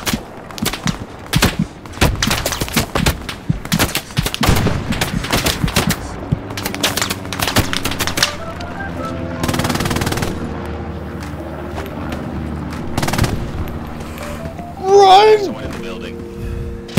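Machine gun fire in the World War II shooter game Hell Let Loose: rapid bursts of automatic shots crackling through the opening half, then a wash of noise and low rumble, with speech running underneath.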